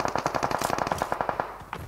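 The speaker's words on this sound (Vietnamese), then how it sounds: "Đây rồi, đang bắn nhau." Rapid automatic gunfire from a video game shootout, a fast steady burst of about a dozen loud, close shots that stops abruptly and is followed by a single later report, with no talking.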